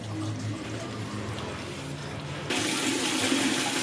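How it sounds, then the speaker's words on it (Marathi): Faint cooking murmur, then water pours into a pot of chicken curry, a steady splashing rush that continues to the end. "तर पाणी आपण टाकून घेऊ"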